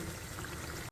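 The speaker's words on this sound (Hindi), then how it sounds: "1 गिलास पानी डालते हैं।" A glass of water poured into a pot of chicken curry with cardamom and cloves, a continuous close splashing stream filling the moment and cutting off abruptly at the end, with no voice over it.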